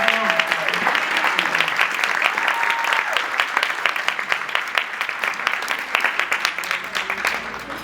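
Audience applause at a Juneteenth celebration keynote, dense sustained clapping from a crowd filling the hall throughout, loud and steady, with some talk mixed in.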